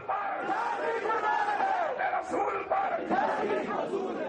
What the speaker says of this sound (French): Charlie Hebdo est conspué par la foule